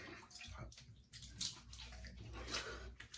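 Hot water runs from a tap for shaving, a low steady splashing and rushing stream with faint fluctuations, heard quietly and close, with no talk over it.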